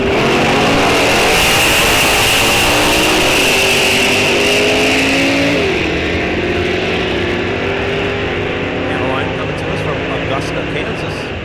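At a raceway during an NHRA National Open, a drag pack Dodge Challenger and a stock automatic Chevrolet Camaro launch with loud, sustained engine roars that rise in pitch through the gears, close and overpowering throughout.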